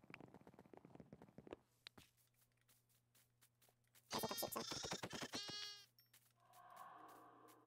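Sheep in the video game Minecraft bleat in a few distinct calls, the loudest a strong wavering bleat in the middle, set among soft stepping and light background clicks.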